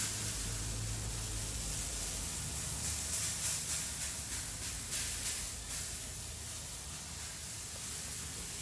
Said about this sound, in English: And we'll go ahead and spray it,